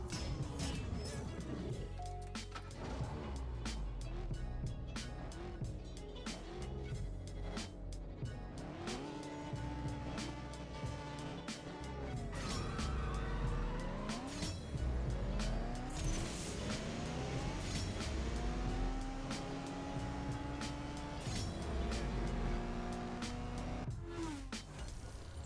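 Racing cars in CSR Racing 2 rev hard with rising and falling engine whines, tire squeals and quick gear shifts, busy and continuous throughout a race with game music beneath and some talk.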